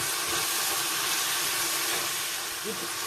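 Fresh homegrown ivy gourd (tindora) frying in a pan, a steady loud sizzling hiss throughout, with faint talk underneath.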